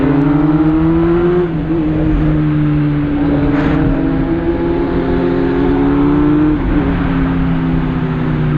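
A loud, close Hornet motorcycle engine drones steadily, its pitch climbing and dropping as the throttle shifts between revs, with no voices over it.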